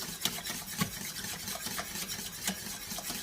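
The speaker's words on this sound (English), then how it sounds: "Then we're going to whisk it in" A whisk beating mustard into a warm mixture for garlic bread and lasagne, giving a soft, steady scraping and swishing with faint periodic taps of the whisk against the bowl, close and fairly quiet.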